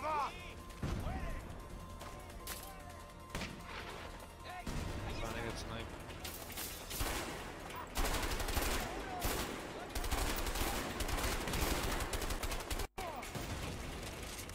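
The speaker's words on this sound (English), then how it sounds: "grenade launcher! What the fuck? This guy's just gonna destroy his house." Grenade launcher blasts and bursts of gunfire in the A Way Out video game, repeated loud booms and rattling shots crashing through a house, with excited voices talking over the chaos.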